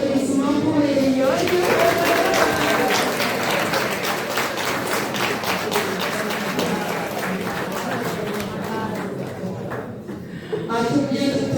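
Audience applause at an award ceremony in Brussels for the Victoire Ingabire Prize: steady clapping from a crowd fills the room for several seconds, with a voice speaking over it throughout.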